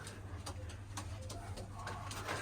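Pigeons on an umbrella-shaped loft perch coo softly a few times, faint and close, over a low steady hum.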